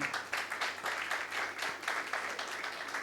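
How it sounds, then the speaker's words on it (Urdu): Audience at a lecture on the Book of Acts clapping in a hall, a moderately loud burst of applause with uneven pulses of hand claps for about three seconds, no talk over it. "اوکے، زوردار تالیاں بجائیں۔"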